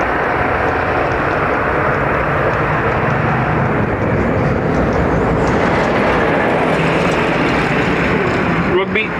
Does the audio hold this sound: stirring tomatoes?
no